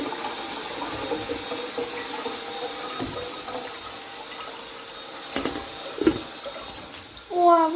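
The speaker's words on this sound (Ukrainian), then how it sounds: "Ми заливатимемо рис гарячою водою" Hot water pours over rice in a home kitchen, a steady running-water rush through most of the clip, with a few clatters near the end.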